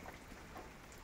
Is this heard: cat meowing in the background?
no